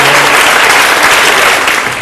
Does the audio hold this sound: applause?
yes